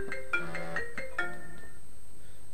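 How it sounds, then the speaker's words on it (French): A telephone ringtone plays a short melodic pattern of bright tones, repeating about four times before fading out, fairly quiet and with no one talking over it. "Ah, téléphone."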